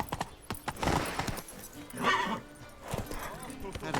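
Roach the horse trots in The Witcher 3, hooves clip-clopping in a quick close rhythm with a brief snort, and a voice speaks over the hoofbeats.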